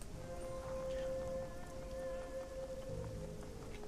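Steady rainfall in the Shadowrun Hong Kong video game, a continuous dense hiss of drops with a faint tonal hum underneath, even and unbroken throughout.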